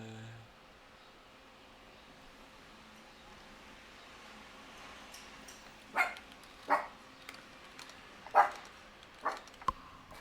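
A dog barks in short, sharp bursts, five or so scattered yelps and woofs coming after a long quiet stretch indoors, fairly close but modest in loudness.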